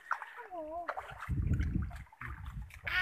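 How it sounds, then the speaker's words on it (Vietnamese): Water drains from a pond through a small pipe, with an ongoing splashing gurgle under a person talking nearby. "đang xả nước nhưng mà ống nhỏ quá, nước nó chưa hết nữa"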